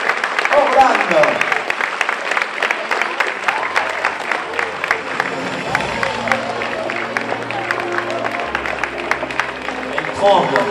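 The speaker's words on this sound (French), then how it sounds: "On peut l'applaudir très très fort." An audience at a beauty pageant gala applauds the newly crowned queen, steady clapping running under a host's voice speaking over a microphone while music plays beneath.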